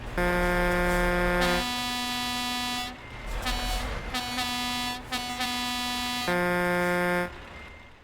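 Truck air horn blasts repeatedly in Euro Truck Simulator 2, long loud sustained honks with short breaks and a choppy burst of quick toots in the middle, up close with engine noise underneath.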